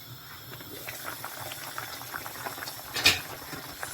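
Oil for a light native soup boils in a covered pot, a soft, continuous bubbling and gurgling with one sharper pop partway through.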